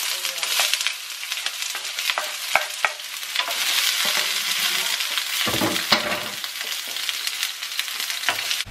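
Garlic fries and sizzles in a pan in a home kitchen, a steady hiss running throughout with occasional stirring scrapes and light clinks of a utensil against the pan.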